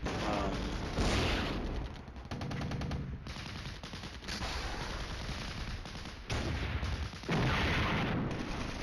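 Mortar and gun fire in the wargame Flashpoint Campaigns: Red Storm, a dense barrage of loud booming explosions and rattling shots in overlapping bursts, with a few brief lulls between volleys.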